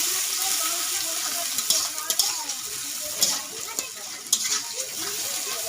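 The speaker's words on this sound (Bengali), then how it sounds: "কুচিয়ে রাখা পেঁয়াজ দিয়ে দিচ্ছি। ভালো করে নাড়িয়ে নিচ্ছি।" Chopped onions fry in a pan for a village-style chicken curry, a steady close sizzle broken by scraping stirs and a few sharp clinks of the spoon against the pan.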